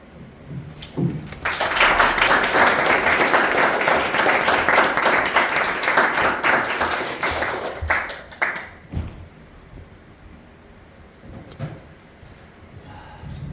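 Audience applause after a lecture: a burst of clapping swells quickly and holds full and dense for several seconds, then thins out into scattered claps and quiet room noise.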